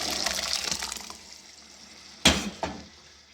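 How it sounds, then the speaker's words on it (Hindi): Moth dal lentils go into hot oil in a cooking pot after the water has boiled off, giving a fading sizzling hiss followed by two sharp splashy bursts as more lentils drop in. "अब इसमें हम आहिस्ता आहिस्ता वो दाल ऐड कर लेंगे।"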